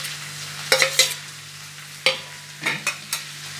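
Mutton being stirred in a frying pan for a Mughlai mutton curry, a few scraping, clattering stirs with a soft steady sizzle underneath, close and alone.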